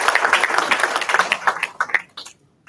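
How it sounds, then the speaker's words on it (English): Audience applause for the Hastings Ratepayers Association at a meet-the-candidates evening in Port Macquarie, a short burst of clapping from a modest crowd that thins out and fades within a few seconds. "just give them a round of applause"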